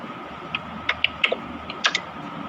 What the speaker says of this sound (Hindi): गूगल पे जब हम टाइप करते हैं